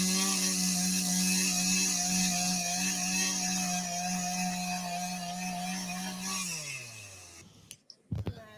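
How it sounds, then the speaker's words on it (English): A chainsaw runs at a steady, loud idle-to-cutting drone for about six seconds, then its pitch drops as it winds down and cuts off, followed by a few brief clunks. The person using it is on a first attempt. "Her first time using a chainsaw."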